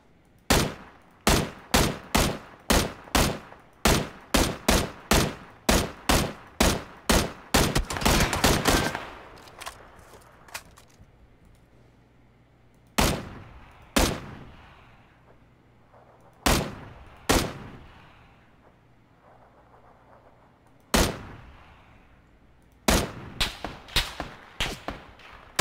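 Rapid bursts of gunfire from a shooter video game, with fast volleys of shots early on giving way to spaced single loud reports and short clusters, each shot sharp and close with a brief echoing tail.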